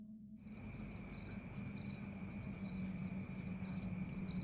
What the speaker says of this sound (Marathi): रातकिड्यांचा किर्र आवाज जणू रात्रीच्या काळोखाला अधिकच गडद्द करत होता